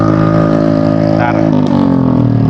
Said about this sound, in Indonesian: motor lewat dulu, ampun kalau udah ada knalpot berisik tuh